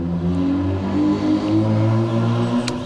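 A loud tuned motorcycle passing nearby, its engine droning and rising in pitch as it revs through, heard alone with no talking.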